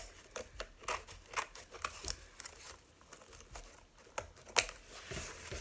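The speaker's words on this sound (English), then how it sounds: "I'm just going to cut my ribbon like this." Scissors snip through ribbon for a lemonade-themed mesh wreath, a quiet run of repeated close cuts and crinkles, with no talking.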